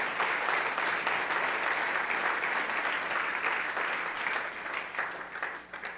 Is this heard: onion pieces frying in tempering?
no